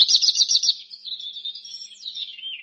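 A small bird gives a quick series of bright, high chirps followed by a longer warbling trill, close and clear against silence.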